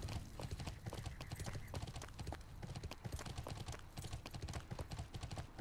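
A mounted horse trotting in the online game Bless: a rapid, steady clip-clop of hooves that carries on throughout, up close and fairly even, with faint game ambience around it and no clear talk.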